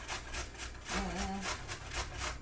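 Food is grated by hand for morning muffins, a rhythmic series of close rasping strokes repeating about every quarter second.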